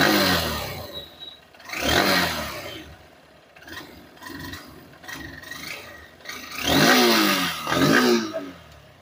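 Honda CB Hornet 160 motorcycle engine running and revving after a repair, rasping bursts that rise and fall, with two strong revs early and late and a quieter idle between, heard up close.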